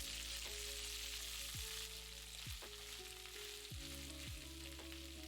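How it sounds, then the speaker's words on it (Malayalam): Sliced okra with dried red chilies, cumin and curry leaves fries in hot oil with a continuous close sizzle, joined by occasional scrapes of a spoon against the pan and no voices. "അരിഞ്ഞു വെച്ചിരിക്കുന്ന വെണ്ടയ്ക്ക, അല്പം കറിവേപ്പില ഇത്രയും ഇട്ട് 3 മിനിറ്റ് ഫ്രൈ ചെയ്യുക"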